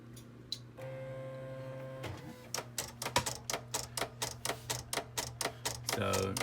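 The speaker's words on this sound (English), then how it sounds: "So I'm going to send it to the cutter." A vinyl cutter with an auto blade starts with a steady motor whine, then taps out a fast, even run of sharp mechanical clicks as it sets up to cut heat transfer vinyl, heard close and alone before a hum returns.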